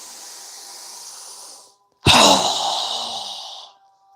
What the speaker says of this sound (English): So go ahead and inhale. Strong long exhale.